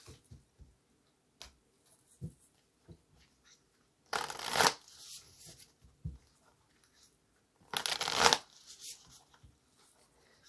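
A deck of tarot cards is shuffled in two brisk bursts of riffling, each about half a second long, separated by soft taps and handling noises in an otherwise quiet room.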